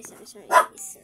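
A dog gives a single sharp bark close by, squeezed between bits of nearby talking.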